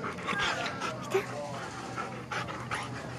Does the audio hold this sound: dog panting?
yes